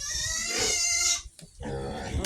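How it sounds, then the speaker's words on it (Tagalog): Native piglets feed and grunt close by in a mix of squeals and snorts, with a shrill high cry at the start and a voice briefly speaking over them. "Umpisa na silang kumain ang mga alaga naming biik ni Boss William."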